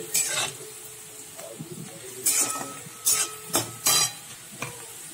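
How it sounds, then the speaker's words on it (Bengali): Chopped onions frying in oil in a pan, with a soft steady sizzle beneath several sharp clinks and scrapes of a spoon stirring against the metal, close and fairly quiet. "পেঁয়াজটা দিয়ে দিচ্ছি। পেঁয়াজটা ভেজে নেবো।"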